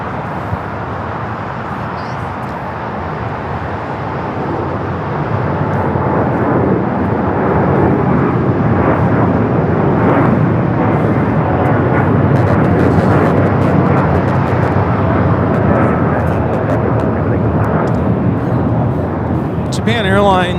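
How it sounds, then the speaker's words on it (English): A Japan Airlines Boeing 787-9 Dreamliner takes off at LAX, its engines a steady, loud broadband roar that builds and holds for the full stretch, with people talking faintly over it. "Japan Airlines Flight 69 taking off to Osaka on the 787-9 Dreamliner."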